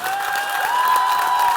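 A theatre audience at a Nouméa show gives Fabien Capri a dense, steady round of applause with light cheering and a held tone running beneath the clapping.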